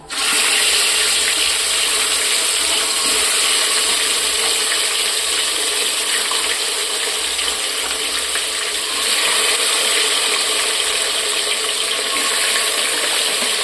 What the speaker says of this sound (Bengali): এবার আমি এটা একটা একটা করে তেলের মধ্যে তুলে দিচ্ছি